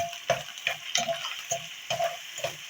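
Chili flakes and salt being worked into dough by hand, heard as a close, rhythmic series of soft squishing and rustling strokes, about six in under three seconds.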